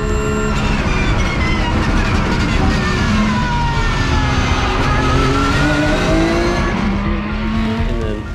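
Race cars at the start of an Indianapolis endurance race roar past in a loud, dense pack, with engines revving and shifting pitch, and tires squealing over a steady rumble.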